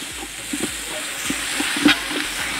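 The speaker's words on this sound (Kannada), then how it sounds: "ಈಗ ಇದನ್ನೆಲ್ಲ ಚೆನ್ನಾಗಿ ಫ್ರೈ ಮಾಡ್ಕೋಬೇಕು" Coriander powder and other spices frying in a pan over a wood-fired village stove for egg biryani, a steady sizzling hiss with rhythmic spatula scrapes, close and fairly loud.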